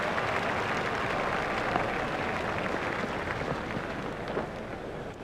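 A cricket crowd applauds a shot in a dense, sustained wash of clapping that fills the stadium and fades slightly toward the end.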